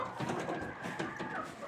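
Chickens and a rooster in a farm stall cluck and coo softly in a quiet, low-level jumble of bird calls, fairly close but faint throughout.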